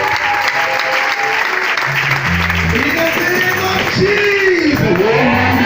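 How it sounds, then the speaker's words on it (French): A church congregation applauds steadily and loudly at an anniversary service, a dense continuous clapping with shouts and voices rising over it. "Acclamez-vous à plus pour nous."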